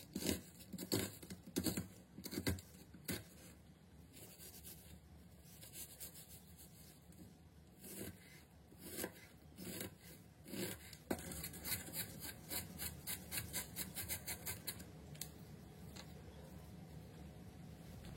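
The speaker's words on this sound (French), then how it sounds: "Ensuite, je vais m'attaquer à l'oignon. Là aussi, je vais venir couper assez finement." Onion being finely chopped by hand with a kitchen knife on a board, a run of quick, close taps and scraping cuts that speed into a steady rapid patter, with no talking.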